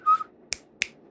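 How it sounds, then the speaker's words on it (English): Two crisp, close finger snaps ring out about a third of a second apart, just after a brief high whistled note. "I'm a big whistler and snapper. I like to whistle and snap."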